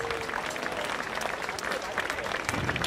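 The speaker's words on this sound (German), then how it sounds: "Nochmal einen herzlichen Applaus an die Reifenschwinger, ihr wahrscheinlich letzter Auftritt des Jahres." Crowd applause at an outdoor Schäfflertanz folk dance performance in Nonnenhorn, steady clapping that carries through the whole stretch, with voices mixed in.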